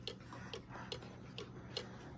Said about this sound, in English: got a new Cuckoo clock